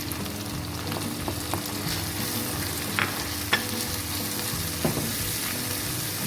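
Whole cumin, red chilli, ground cumin and ground coriander frying in oil over a low flame, a steady close sizzle with faint stirring ticks and no talking.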